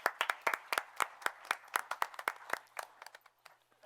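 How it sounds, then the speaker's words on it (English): Sparse clapping from a small group at a town board meeting, individual hand claps clearly separated, moderately close, thinning out and fading toward the end. "Let's give a round of applause for the troops."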